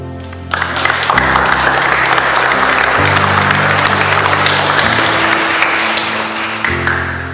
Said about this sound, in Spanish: denle un fuerte aplauso también a sus papás